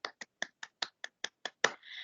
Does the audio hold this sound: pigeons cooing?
no